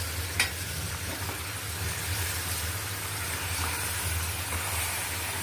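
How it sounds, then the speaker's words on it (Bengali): Pieces of beef going into a hot wok, a steady close sizzle with a sharp clatter near the start and light stirring scrapes, no talk. "এই যে এখন মাংসটাকে আমি কড়াইতে দিয়ে দিচ্ছি অল্প অল্প করে।"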